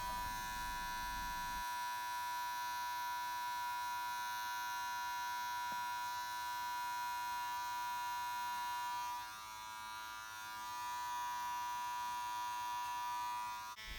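An electric hair clipper with an open-lever guard buzzing steadily while fading a self-cut mid-fade haircut, a close, continuous electric hum with a brief low thump near the start and a slight dip in level partway through.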